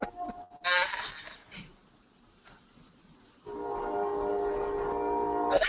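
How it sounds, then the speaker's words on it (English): A train passes at a distance and sounds its horn, a steady tonal blare that comes in after a quieter stretch of faint background noise and holds to the end, with no speech over it. "Oh, that's a train. That's a train."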